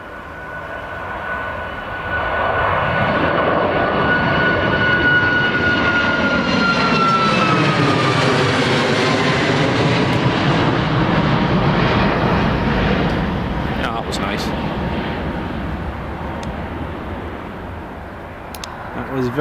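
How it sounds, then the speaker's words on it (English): A TUI Airways Boeing 737 MAX departs runway 25 at Newcastle International Airport, a loud jet roar that swells, peaks as it passes, then slowly fades, with a sweeping whine and talk underneath. "Here's TUI Airways 737 MAX, Golf Tango Uniform Mike Whiskey, departing runway 25"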